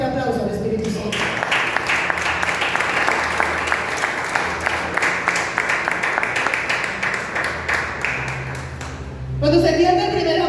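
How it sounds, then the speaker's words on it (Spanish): A church congregation claps loudly for the Holy Spirit during a sermon by a woman pastor, a dense, sustained burst of many hands lasting most of the moment before it drops off near the end, with voices murmuring underneath. "Dale un fuerte aplauso al Espíritu Santo."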